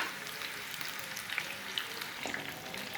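Chicken pieces deep frying in oil in a home kitchen, a steady, close crackling sizzle with small pops scattered throughout and no talking.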